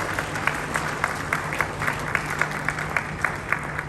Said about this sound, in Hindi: मैं चाहूँगी एक बार तालियां बजाकर हम उनका